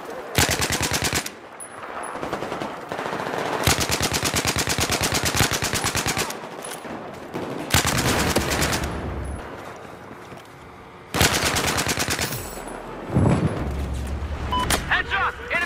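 Machine gun fire rattles in the shooter Battlefield 2042, with long, loud sustained bursts separated by brief lulls and other gunfire and game noise in between.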